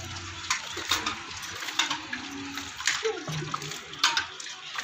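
Water is poured onto freshly seeded plants beneath a temporary garden pergola, a soft intermittent splashing and trickling close by, with people talking throughout.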